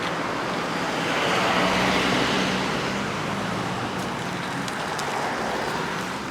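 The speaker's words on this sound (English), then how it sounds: "Lots of cars here because everybody wants to get vaccinated." Steady road traffic from many cars queued outside Poliklinik Tambun, a vaccination clinic, forms a continuous broadband rumble and hiss with no single vehicle standing out.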